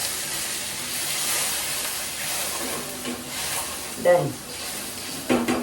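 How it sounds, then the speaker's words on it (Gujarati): Water is poured into a hot pan of spiced vegetable curry with cumin and chilli, producing a steady steaming hiss and sizzle throughout, with brief clinks near the end and a short spoken word. "પાણી આવી રીતે નાખીને એને ઉકળવા દેવાનું."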